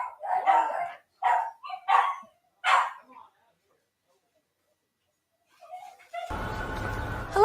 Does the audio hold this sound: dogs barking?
yes